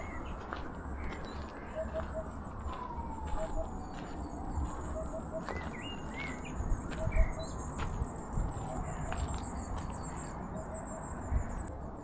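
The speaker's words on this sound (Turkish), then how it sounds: "bir ibibik kuşu görmüştüm. Şimdi sesi geliyor yine." Soft, distant hoopoe calls repeat in short triple hoots every couple of seconds over insect buzz and faint chirps, in a forest by a pond in Maltepe, Istanbul.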